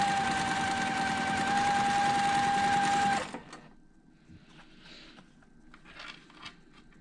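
A sewing machine stitching a quilt block along a marked line, running steadily and fairly close for about three seconds before stopping, followed by faint handling rustles.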